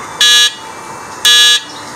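Two short electronic horn beeps from an electric tricycle, about a second apart, each a bright steady buzzing tone lasting a third of a second over faint background noise.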